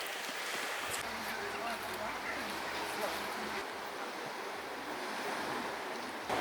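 Surf breaking on a beach in Odesa, Ukraine, a steady broadband wash of waves with wind buffeting the microphone throughout, no talking.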